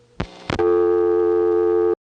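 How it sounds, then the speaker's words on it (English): On a Crossbar No. 5 telephone exchange, two sharp relay clicks come first, then a steady dial tone starts and holds for over a second before cutting off. "here's a crossbar 5 getting dial tone"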